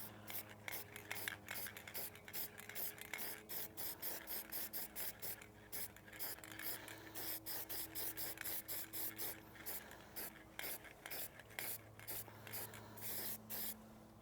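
Metallic spray paint hisses out in rapid short bursts, laying down thin coats on a yellow prop piece; each close spray pulse is separated by brief gaps with no talking.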